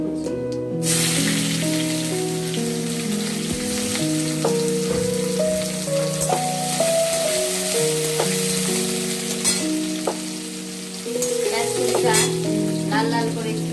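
Chopped onions sizzle loudly in hot oil in a pan, with steady frying crackle and repeated stirring scrapes throughout, no voices.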